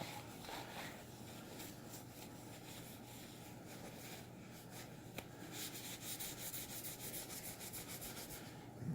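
A cloth or pad scrubbing grime off a small, light, neglected acoustic guitar, producing a steady, close, soft rubbing and scraping that runs without pause for several seconds with no speech.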